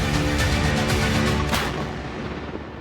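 A DRDO ATAGS towed artillery gun fires, a loud booming blast with a rolling echo that fades away over a couple of seconds.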